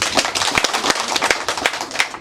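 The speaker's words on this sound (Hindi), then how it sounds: "एक बार ताली बजाओ था" An audience claps at a public meeting about controlling electricity theft: a dense, continuous patter of many hands, close and steady for a couple of seconds, with no speech.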